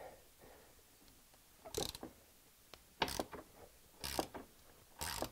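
Ratcheting clicks from a 13mm socket wrench loosening a bolt beside the sun visor inside a Jeep JK, arriving in four short bursts spaced about a second apart, close and fairly loud against a quiet background.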